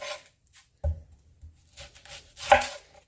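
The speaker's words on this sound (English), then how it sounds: "We are going to take our sweet onion. We're going to cut off the edges." A knife slices the ends off a sweet onion on a cutting board, a few sharp thuds and scrapes with short pauses between cuts, close and fairly quiet.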